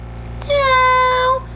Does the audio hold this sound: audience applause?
no